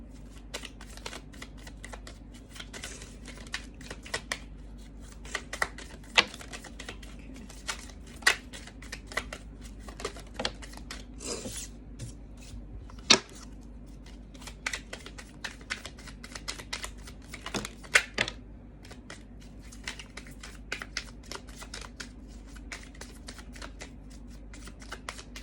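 Tarot cards are shuffled and drawn close up in a quiet room, a long run of crisp riffling flicks and soft slaps with a few sharper snaps, and no talking.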